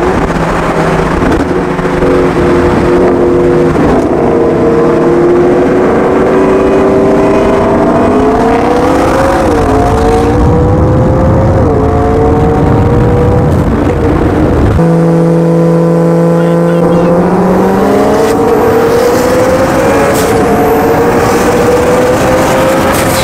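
Mitsubishi Evo and Camaro drag racing in Mexico, engines roaring loud and close as revs climb steadily through several gear changes, with a sharp shift partway through before the pitch rises again.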